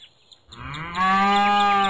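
A cartoon cow in an interactive CD game gives one long, loud, sustained moo that swells in after a brief quiet start and holds steady to the end.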